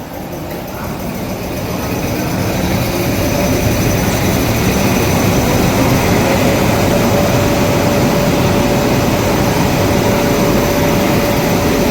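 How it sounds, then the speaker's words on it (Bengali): A WP7 electric locomotive, fed directly from 25,000-volt overhead lines, powers up: a low rumble swells over the first couple of seconds into a loud, steady drone, and a thin whine joins partway through. "চালু হয়ে গেল আমাদের ইঞ্জিন।"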